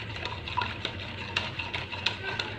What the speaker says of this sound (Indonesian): Kita masukin gula pasir ke dalam air hangat. Lalu kita aduk.